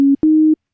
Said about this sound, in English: right now we have a sine wave